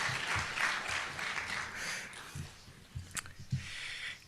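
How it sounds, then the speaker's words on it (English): Applause rises from the audience at a dedication ceremony for the Rabbi Bulka sanctuary, steady clapping that gradually thins toward the end, with a few louder claps and a brief sharp knock near the close. "big round of applause is right"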